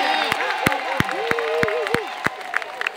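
Crowd at an Orangeburg County Democratic Party event applauding and cheering for the President, a steady wash of clapping with sharp individual claps while a voice speaks over it.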